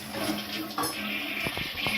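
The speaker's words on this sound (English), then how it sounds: "And then we're just going to give it a flush." A leaking toilet being flushed, a steady watery rush and gurgle running throughout at close range, with a few soft knocks near the end.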